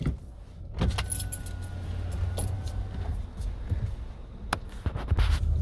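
Keys jangle and click in short bursts beside a parked car, with several sharp metallic clicks and a beep-like lock sound over a steady low outdoor rumble, no talking.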